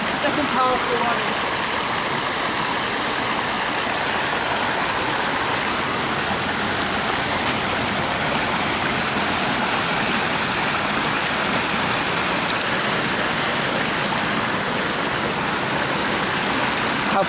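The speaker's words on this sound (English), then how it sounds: "That's some powerful water." Flooded creek surging with powerful rushing water, a loud, continuous broadband roar close by that stays steady throughout with no clear talking over it.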